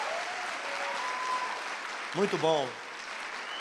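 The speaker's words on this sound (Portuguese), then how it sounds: "uma salva de palmas para a equipe técnica da Red," An audience applauds the technical team at a Christian talk, producing a steady wash of clapping that runs through the whole stretch, and a voice briefly speaks over it near the end.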